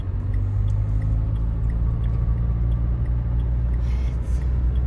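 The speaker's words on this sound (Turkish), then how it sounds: "Bas biraz motor sesini duyalım. Aracımız dizel." Diesel car engine revving under load during a driving lesson, heard from inside the cabin as a steady, loud low rumble that holds throughout without talk.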